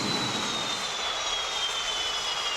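Mirage 2000C jet engine spooling up in the DCS World flight simulator, a steady broadband roar with a high whine that slowly drifts, loud and continuous without talk.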